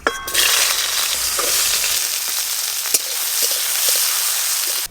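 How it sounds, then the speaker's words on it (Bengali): Bitter gourd slices hit hot oil and fry with a steady, loud, crackling sizzle that runs throughout, with a few sharper pops and spatters along the way. "উচ্ছেগুলো গরম তেলে দিয়ে দেব"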